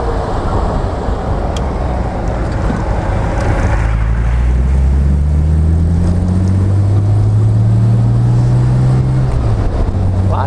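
Driving a Jaguar E-type on a road with other traffic: the engine and exhaust drone loudly and steadily close by as the revs rise and settle in smooth swells.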